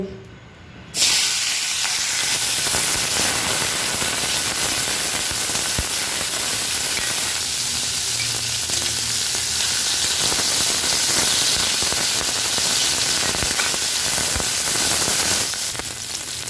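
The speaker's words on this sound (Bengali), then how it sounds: "এরপর চিংড়ি মাছটাকে ফ্রাই করে আনব।" Shrimp frying in mustard oil in a wok give off a loud, steady hiss and sizzle that starts abruptly and carries on for many seconds, with scattered pops and crackles.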